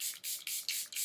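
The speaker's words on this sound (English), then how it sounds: "I'll use my Charlotte Tilbury spray." Charlotte Tilbury setting spray misted in four or five quick bursts, each a soft airy hiss close by, separated by brief pauses.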